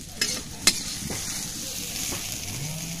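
Vegetables are stirred and fry over a firewood cooking fire, with a steady close sizzle broken by a couple of sharp scrapes of the utensil in the pan.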